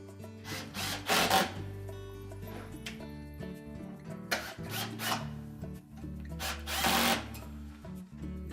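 Screws driven into the mounting bracket of a Whirlpool range blower assembly, several bursts of a power driver whirring with rising pitch, close and moderately loud, no speech.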